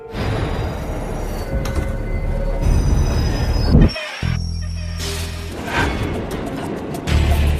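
A subway train rumbles loudly through a tunnel, with metallic screeches and clanks, a brief drop in noise midway, then the heavy rolling resumes.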